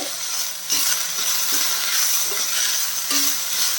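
Mint leaves sauté with onions in a pan for chutney, giving a steady, moderate sizzle broken by a few light scrapes and clinks of stirring, with no voices.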